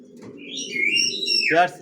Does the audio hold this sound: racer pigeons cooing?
yes